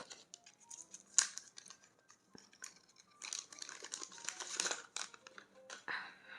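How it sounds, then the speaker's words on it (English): Ugly paper wrapping is peeled and torn off a Google Pixel 6 box with its 30-watt USB Type-C charger, a run of close, crinkly rustles and rips with a sharp tear early on and busier crumpling toward the end. "now let's take this very ugly paper off"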